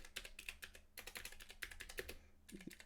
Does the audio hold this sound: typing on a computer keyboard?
yes